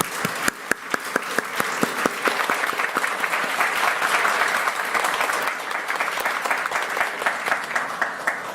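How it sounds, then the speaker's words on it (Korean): A church congregation gives sustained, dense applause to welcome new members, loud and steady with a few sharper individual claps standing out, and no talking over it. "박수로 환영하겠습니다."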